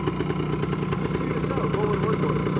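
A 1974 Yamaha DT250 motorcycle engine runs steadily nearby with a loud, even two-stroke idle, while a person speaks over it.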